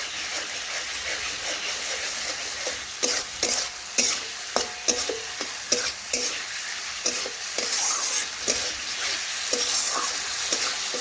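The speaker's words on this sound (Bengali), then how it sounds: "একটু নাড়াচাড়া করে রান্না করে নিচ্ছি।" Tomatoes being stirred and sautéed in a pan for a vegetarian ridge gourd curry: a steady frying sizzle broken by a series of sharp, regular scraping and clinking strokes of a spoon against the pan, close and clear, with no talking.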